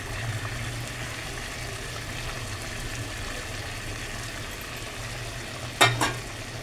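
Potatoes and a catla fish head going into rice cooking in a pot give a steady low simmering and frying hiss, with a brief sharper clatter near the end and no talk.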